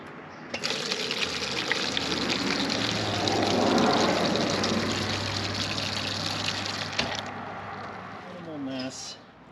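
Old coolant from a Honda Rancher pours steadily into a clear container, a continuous gushing, splashing stream close by that runs for several seconds before stopping abruptly, followed by a few faint trickles.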